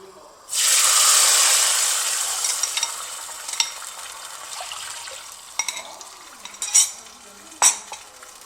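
A loud sizzle bursts out as tamarind water hits a hot pan of fried neem flowers and chilies, then settles into a steady frying hiss with a few clinks of a utensil.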